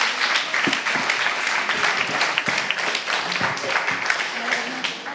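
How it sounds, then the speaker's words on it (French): An audience claps at a world peace forum in Normandy, a dense, steady round of applause at moderate level with a few louder individual claps standing out. "On peut les applaudir très fort."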